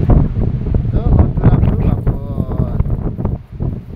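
Strong wind blows outdoors during a windstorm and fire in Beni, buffeting the microphone with a low, rumbling roar beneath people talking throughout.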